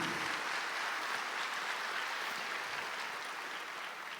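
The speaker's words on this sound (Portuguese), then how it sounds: "Pode aplaudir ao Senhor." A congregation at a Portuguese-language church service applauds steadily, a soft continuous wash of clapping heard from a distance for about four seconds with no talking.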